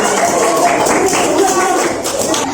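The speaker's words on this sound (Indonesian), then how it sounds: "Tepuk tangan untuk kita semua." Steady, dense applause from a group, continuous throughout with voices mixed in underneath.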